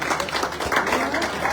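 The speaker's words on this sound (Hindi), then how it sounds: "तो योगी जी के लिए तालियां बनती है नहीं बनती है।" A crowd at a political rally in Uttar Pradesh applauds for Yogi ji in a dense, steady wash of clapping with crowd noise mixed in, holding at an even level from start to finish.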